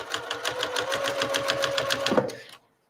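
A sewing machine stitches fabric for a mushroom-shaped pot holder, running in a steady fast rhythmic whir for over two seconds before stopping abruptly, close and fairly loud.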